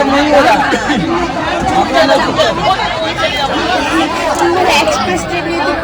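Dense, steady crowd chatter fills a packed passenger train, many overlapping voices forming a loud continuous babble throughout.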